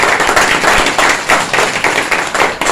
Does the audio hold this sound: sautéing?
no